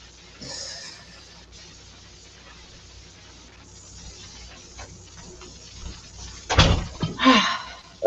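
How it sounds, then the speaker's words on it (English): A door slams with a sharp, loud bang near the end, following a stretch of quiet room tone with faint shuffling and small clicks. "I heard the door slam, and I heard a sigh."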